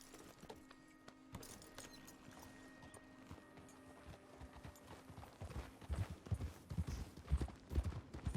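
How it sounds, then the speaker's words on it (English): Horses' hooves approaching in Red Dead Redemption 2, quiet scattered clip-clops at first that grow louder and denser toward the end as the animals arrive nearby, with no voices. "We're standing here and waiting for our horses to come to us."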